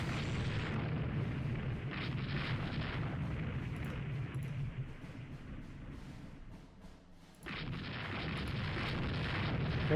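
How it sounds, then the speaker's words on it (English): Bomb hits in Rule the Waves 2, a naval warfare game: rumbling explosion booms under continuous battle noise, a sudden drop to near quiet, then another heavy burst resuming loudly. "there is some bomb hits there"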